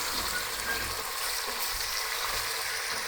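Cubed beef sears in a hot oiled pan, a steady dense frying sizzle that holds even throughout, close and fairly quiet, with no talk.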